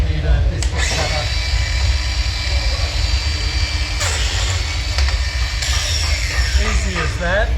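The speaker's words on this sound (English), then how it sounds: "Got the Makita biscuit cutter." Makita biscuit cutter running and plunging into a piece of scrap wood, a loud steady motor whine with brief bursts as the blade bites, close by with no talk over it.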